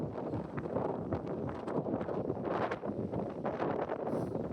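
Strong wind on a mountain near the Sweden-Norway border buffets the microphone in a steady, loud rushing roar that never lets up.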